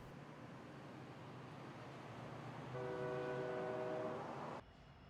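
A local freight train heading west into San Dimas rumbles steadily, its horn sounding a sustained blast near the middle before the rumble cuts off abruptly.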